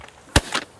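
Two sharp, close shotgun blasts ring out during a goose hunt on the Kalamazoo River in Michigan, a brief pause between them.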